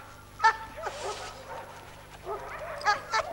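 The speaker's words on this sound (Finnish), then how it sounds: "Tämä on vanha Venäjän koira." An old Russian dog, seven years old, gives a few sharp yips and barks, close and fairly loud, separated by short pauses and whimpering sounds.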